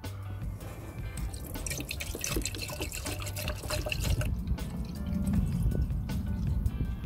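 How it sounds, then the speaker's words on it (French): Coolant poured into a car's expansion tank, a close, steady liquid trickle and splash that grows fuller and louder partway through, with no voices. "Et on va remplir le vase d'expansion de liquide de refroidissement"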